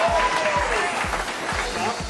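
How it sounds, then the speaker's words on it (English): Applause from a dinner audience for a two-time Australian Supersport and Superbike champion at a MotoGP champions dinner on Phillip Island: steady, dense clapping close by at an even level, with no voice on top. "Keep the applause coming for a two-time Australian Supersport and Superbike champion, Jamie Stouffer."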